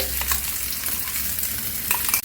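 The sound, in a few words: ground fenugreek leaf paste frying in a wok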